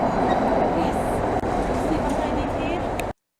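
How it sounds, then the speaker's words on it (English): A new trolleybus driving along a Budapest street, a steady close electric vehicle rumble with road and traffic noise, loud and continuous for about three seconds before ending abruptly. "Here is one of the new trolleybuses in action."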